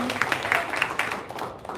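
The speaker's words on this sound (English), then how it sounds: "let's give a round of applause to our speakers" Brief burst of audience applause for conference speakers at a women-in-leadership event, scattered claps from a modest crowd fading out after about a second.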